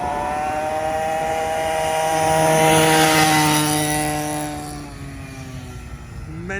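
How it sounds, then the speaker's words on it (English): A low-flying aeroplane near an airport passes overhead, its engine drone swelling to a loud peak midway and then fading with a falling pitch as it moves away. "See you later, aeroplane. That's how close we are to the airport."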